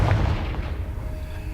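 A Confringo spell blast in the video game Hogwarts Legacy: one loud, deep booming explosion that rolls off into a fading rumble, close and alone.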